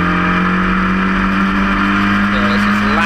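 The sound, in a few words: historic Formula Ford race cars passing at Cadwell Park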